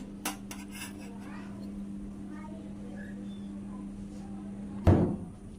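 Cooked semai vermicelli is served onto a plate in a home kitchen, heard as faint scraping and a sharp clink of a utensil against the dish near the end, over a steady low hum.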